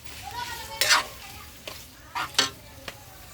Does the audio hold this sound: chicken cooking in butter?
yes